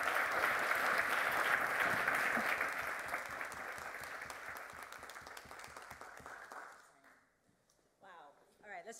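A crowd applauds loudly and steadily, the clapping fading out over several seconds before a voice begins speaking.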